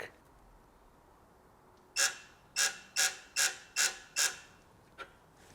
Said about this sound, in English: bring out the electric torque wrench and then torque it to spec